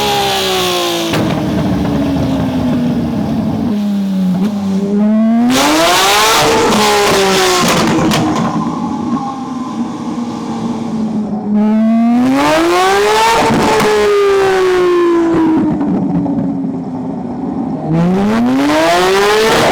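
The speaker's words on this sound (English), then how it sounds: "we got a 992 GT3 RS on the dyno. This thing has had a full custom carbon kit" Porsche 992 GT3 RS with custom carbon kit, downpipes and a full straight-pipe exhaust, revving on a dyno: repeated loud rising and falling engine sweeps that climb high and drop back, several pulls one after another with no talk.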